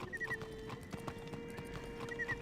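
Rhythmic clip-clop of horse hooves trots along steadily in the video game Wizard101, with a couple of short whinnies and a faint musical tone in the background.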